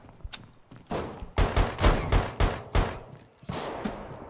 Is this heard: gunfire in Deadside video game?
yes